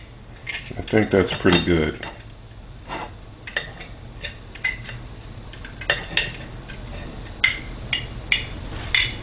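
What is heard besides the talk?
knife cutting filet mignon steak into bite-sized pieces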